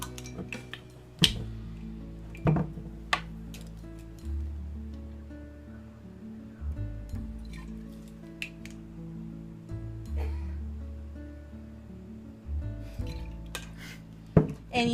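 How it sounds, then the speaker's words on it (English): Spoon stirring confectioner's sugar and white tequila into a thick frosting in a bowl, giving a steady run of soft scraping strokes punctuated by sharp clinks against the bowl, close and clear with no talking. "And you stir until it's to a thick cream"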